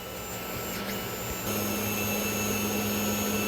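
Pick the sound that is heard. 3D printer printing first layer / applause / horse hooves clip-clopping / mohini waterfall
3D printer printing first layer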